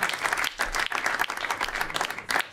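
Studio audience applauds on a sports quiz show, dense clapping in uneven surges with a few louder bursts, fairly close and filling the room.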